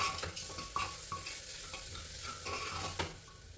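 Biryani marinade of yogurt, mint and coriander being stirred in a bowl, a soft continuous wet scraping with light clinks of a spoon against the vessel, faint and close, without talk.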